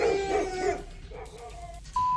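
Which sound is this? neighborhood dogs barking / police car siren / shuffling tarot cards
neighborhood dogs barking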